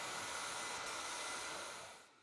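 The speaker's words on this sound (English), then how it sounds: "after each coat, the team dries the part with a hairdryer while Brian moves on to the next piece." A hairdryer blows a steady, loud airflow hiss over a freshly dyed BMW car interior part, running continuously before easing off at the end.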